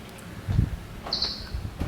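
A Rivian electric car gives a short, high-pitched electronic chirp as it locks itself automatically, a single brief tone heard at a distance over outdoor background noise and light footsteps.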